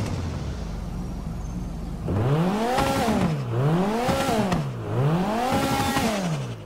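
In GTA Online, a car's engine idles, then revs hard several times in a row, each rise-and-fall whine loud and close, with no voices over it.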